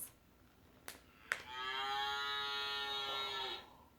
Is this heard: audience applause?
no